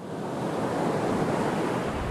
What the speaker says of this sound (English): What you hear is the sea pounding